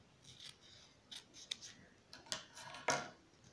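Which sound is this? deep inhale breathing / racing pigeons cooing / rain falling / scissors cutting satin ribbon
scissors cutting satin ribbon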